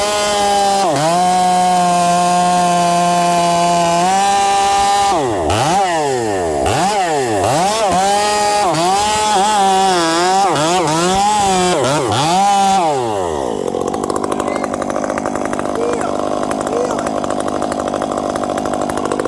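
A chainsaw at a Paul Bunyan show runs loud and close, its engine revving and dropping in repeated swells as it bites into a log, then settling into a rough, steady cutting drone.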